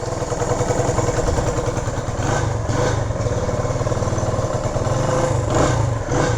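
A 1972 Honda SL100 motorcycle engine idles steadily after a cold start with the choke off, a rapid, even putter, close by and fairly loud, with a slight rise in revs near the end.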